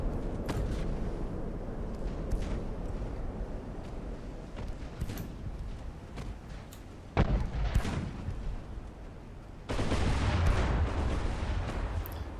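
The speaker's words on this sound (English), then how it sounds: "There's obviously a high volume of fire being sent up downrange." Warship artillery fire in the Ultimate Admiral: Dreadnoughts naval battle game, a dense continuous rumble of booming gun reports with sharp cracks scattered through it and a louder barrage near the end.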